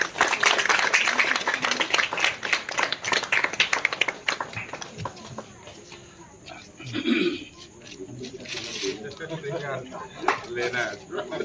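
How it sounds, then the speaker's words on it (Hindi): Crowd clapping at an Adivasi Day gathering in Nagpur, loud and dense at first, then thinning into scattered claps beneath talking voices. "थोड़ा जोरदार तालियां बजाएं।"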